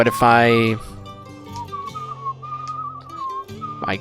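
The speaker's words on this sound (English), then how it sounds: "that's all I can do is just whistle to keep going faster" A character whistles in the video game Where the Water Tastes Like Wine. A voice sounds briefly at the start, then a thin wavering whistled tune carries on softly over quiet game sound.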